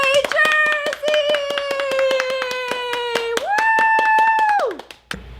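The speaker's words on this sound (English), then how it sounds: "everybody clap for Jersey" People clap for Jersey, a pet parrot, in a room at home, with sharp, rapid claps close by under a sustained, bright, high-pitched vocal tone that holds steady, rises, then falls away near the end.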